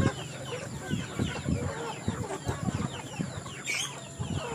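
Chickens cluck and squawk in short, irregular bursts at a farmyard feeding, with some wing flapping and faint background noise.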